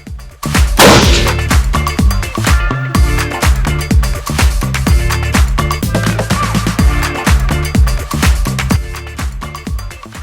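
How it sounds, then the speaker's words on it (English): Rapid loud sharp impulses come continuously, with no talk. They fit a .223 rifle firing fouling shots at a shooting range. "these were my 5 fouling shots"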